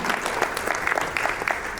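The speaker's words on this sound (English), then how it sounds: "Let's have a big round of applause for Sadhvi, Bhagawati, Saraswatiji, ladies and gentlemen." Applause from the audience at a menstrual hygiene summit's inaugural session, steady massed clapping at moderate level throughout a short stretch.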